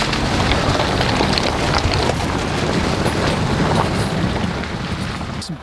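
A long-wheelbase SsangYong Musso Rhino 4x4 ploughs through a puddle on a green lane, throwing up a loud, continuous rush of spray and engine roar that eases slightly at the very end.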